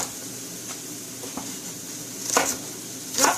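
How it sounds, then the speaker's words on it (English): A knife rough-chops vegetable stems on a board for a stir fry, a few sharp separate knocks spaced unevenly over a steady background hum, the last two louder. "Rough chop."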